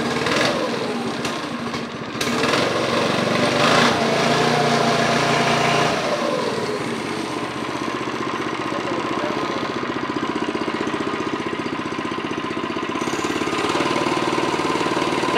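A Predator small engine on a Coleman go-kart idles steadily, a close, rapid knocking putter with a brief rev near the start, running alone without talk.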